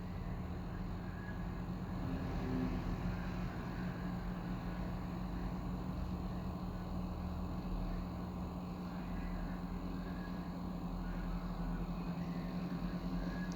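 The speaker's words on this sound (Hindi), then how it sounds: "इसी तरह से सिलाई करेंगे।" A sewing machine stitches a kurti strip with a faint, even motor hum that runs steadily throughout, quiet and without talk.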